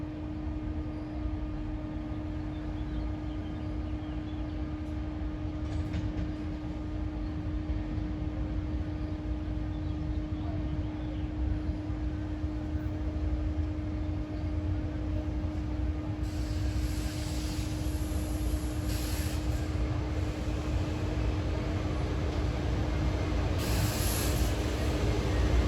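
Amtrak or SEPTA passenger train at Bryn Mawr station, a steady low rumble and hiss of rolling stock building gradually over a long stretch, with a faint tonal hum throughout and brief brighter bursts toward the end.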